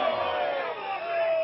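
Spectators at an outdoor rugby nines match at Stanmore Bay, Hibiscus Coast against Mount Albert, producing a steady wash of crowd noise and shouting with no break.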